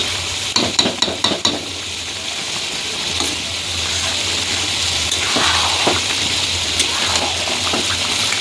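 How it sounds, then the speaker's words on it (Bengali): Onions dropped into hot oil in a pan, a few clattering knocks at first, then a continuous bright sizzle and crackle of frying with occasional stirring scrapes, close by. "তেল গরম হয়ে গেছে, পেঁয়াজগুলো দিয়ে দিলাম"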